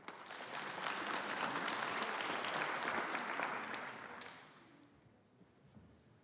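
A crowd applauding steadily for about four seconds, then the clapping fades into a few scattered claps and quiet room noise.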